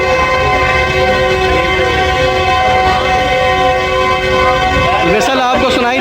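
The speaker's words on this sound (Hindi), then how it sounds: "विसल आपको सुनाई दे रहा होगा" A locomotive whistle sounds loud and sustained at a crowded railway station during an inauguration for the Sandal Express at Jhang Sadar, a steady harmonic blast that wavers near its end.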